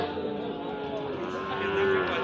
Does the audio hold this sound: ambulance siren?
no